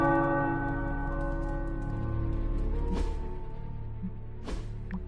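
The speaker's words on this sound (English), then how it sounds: "The tower bells are ringing." Tower bells ringing in the video game Marvel's Midnight Suns, a sustained resonant tolling with lingering overtones, fading slightly, plus a couple of soft thuds in the background.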